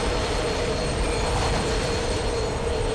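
A falling train car in the Dead Space 2 video game, heard as a steady, loud rumbling and grinding roar with a metallic rail-like hiss that holds unchanged throughout, with no voices.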